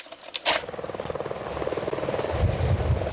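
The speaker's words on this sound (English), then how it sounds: "a Department of Natural Resources helicopter scoured this wooded area of Sydney today" A Department of Natural Resources helicopter searches over a wooded area near Sydney, Nova Scotia, its steady rotor chop and engine drone building slightly in loudness throughout, with no talking.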